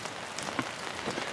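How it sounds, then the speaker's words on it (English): Rain falls in a steady, dense patter of drops striking surfaces, evenly loud across the brief stretch with no voices. "It's raining."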